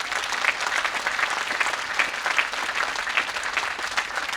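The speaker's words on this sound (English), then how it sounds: "So I think you should give one more round of applause to all those who got you here." Commencement audience applauding for the people who supported the graduates, a steady, dense round of clapping that holds evenly throughout with no talk over it.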